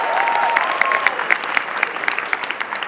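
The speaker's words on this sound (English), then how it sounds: "A round of applause for education." Audience applause at a university African student association fashion show, a loud, dense burst of clapping that thins out toward the end.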